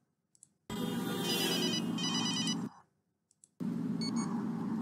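Two bursts of an electronic telephone ringtone with a steady tonal trill: the first runs about two seconds, then after a short pause a second burst begins. The ringing is loud and close, with faint clicks before each burst and no talk.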